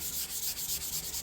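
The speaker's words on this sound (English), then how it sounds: "you do a nice light sand." Light wet sanding of a car hardtop with sandpaper and soapy water spray, quick rhythmic rubbing strokes, soft and close with a steady back-and-forth pulse.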